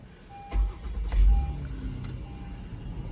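Push-button engine start on a 2019 Honda Odyssey minivan, heard from inside the cabin: a brief electronic chime, then a low rumble as the engine catches and settles into a steady idle, with no talk.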